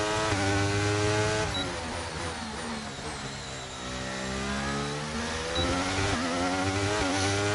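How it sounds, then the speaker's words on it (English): Formula 1 car engines in F1 23, a loud high-pitched whine that rises and falls through gear changes, with other cars droning alongside on track. "A few cars coming out with us."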